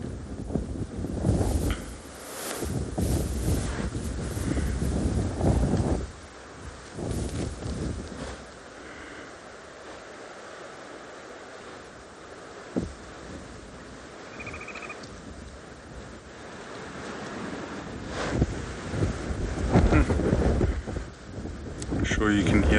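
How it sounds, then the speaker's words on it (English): Strong wind gusts roar across the open bush of South Africa's Sabi Sands near a large buffalo herd, a loud, rushing broadband noise that rises and falls in waves, buffeting the microphone. "you can hear the wind. It's starting to blow very, very strong."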